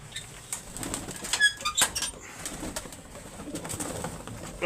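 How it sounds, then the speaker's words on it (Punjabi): Pigeons coo softly up close among rustling and a brief flutter of wings, with scattered clicks and movement noise. "ਕਬੂਤਰ ਆਪਣਾ ਵੱਡਾ ਆ ਜਾਂਦਾ ਗੂੜੀ ਵਾਲੇ ਕਬੂਤਰ ਕਹਿ ਦਿੰਦੇ ਇਹਨਾਂ ਨੂੰ"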